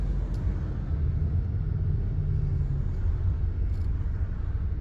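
A car moves off and drives along a road on a driving test route around the Colwick area, giving a steady, loud low engine and road rumble that continues throughout with no talk.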